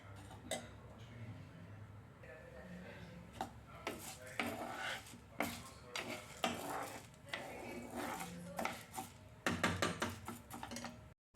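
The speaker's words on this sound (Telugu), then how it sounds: "అందులో ఒక రెండు టీ స్పూన్స్ ఆయిల్ వేసుకోవాలి తర్వాత ఇందులో కందిపప్పు ముందు వేసుకొని వేపుకోవాలి" Toor dal roasting in a couple of teaspoons of oil in a pan on the stove, stirred with a utensil that knocks and scrapes against the pan in irregular clinks, fairly quiet and close.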